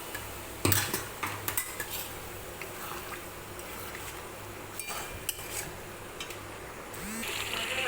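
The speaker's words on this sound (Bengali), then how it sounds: "তারপর আমি আমার খানিকক্ষণ নেড়ে দেব" Chilli chicken is stirred in a pot. A spoon knocks and scrapes against the metal in scattered clinks with irregular spacing, and a soft liquid bubbling sound runs beneath them, close by.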